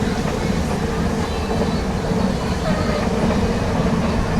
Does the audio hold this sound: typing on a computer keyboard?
no